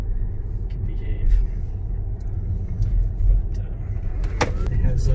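A 2016 Tesla Model S driving, a steady low road rumble and tire noise inside the cabin with light ticks and faint creaks, no engine note, continuous throughout.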